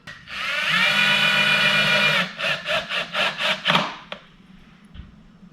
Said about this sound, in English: So I'm going to go and install these 3 screws now with the smaller size that comes with it.